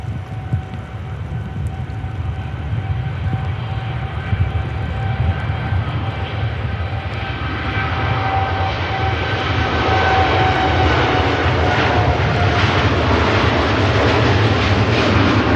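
A diverted airliner at Manchester Airport, bound for Edinburgh, makes a steady jet engine roar with a whining tone that builds gradually and grows louder toward the end.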